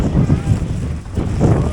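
Wind buffeting a microphone at an outdoor forest-goods market in Laos, a loud low rumble of gusts with brief lulls.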